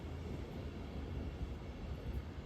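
A train pulling away from the platform on departure for London Euston, a steady low rumble of rolling wheels and engine at moderate level, continuous and without talk.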